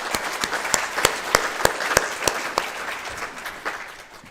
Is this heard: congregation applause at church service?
yes